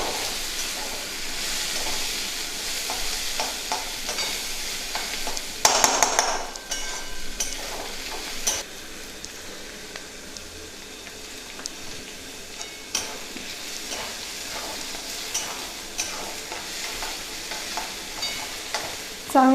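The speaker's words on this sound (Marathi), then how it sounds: "कांद्याला एकदा हलवून घेते बघते बघा आपला चांगला कांदा पण भाजत आला आहे" Quiet sizzling of food frying in a pan, with intermittent scraping and stirring clatters throughout and a brief louder burst of hiss.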